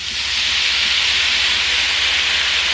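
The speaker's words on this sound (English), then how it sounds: "Okay, now I'm going to start pouring some water on." Water hits a hot pan on high heat after browning meat for a home-cooked country meal, giving a loud, steady steaming hiss close up with no voices.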